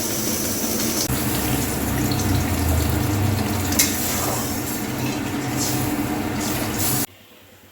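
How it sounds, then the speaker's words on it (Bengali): Water is poured into a hot pan of swamp barb fish curry, giving a loud, steady rushing sizzle up close that cuts off abruptly near the end. "এবার আমি জল দিয়ে দেব"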